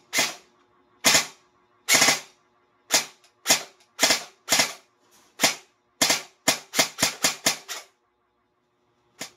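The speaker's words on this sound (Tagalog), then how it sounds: "kahit naka-semi yung switch niya, nagpo-full automatic pa rin siya" EC 329 airsoft gun firing full auto even with its selector on semi, sharp clattering bursts of shots spaced irregularly, closing with a rapid string of cracks, close and loud with no talking.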